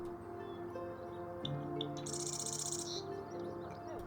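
Summer birdsong in Salt Lake City: several birds chirp and trill in overlapping bursts, with a loud, bright, buzzy call in the middle over a steady background hum.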